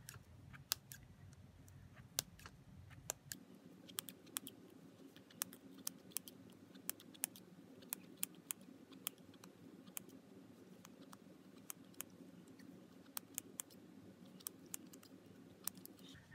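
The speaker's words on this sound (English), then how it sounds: "So I'm going to go into that channel with my scissors, and the smaller the scissor, the easier it works" Small scissors take quick little snips through yarn wrapped in a pom pom maker, a steady run of sharp, faint clicks close by with no talking.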